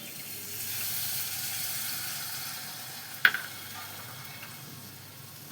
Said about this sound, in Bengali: বাটি ধোয়া জলটা দিয়ে দিচ্ছি।